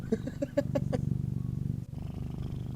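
A cat purrs close and loud in a steady rhythmic rumble, with a few short harmonic vocal tones at the start.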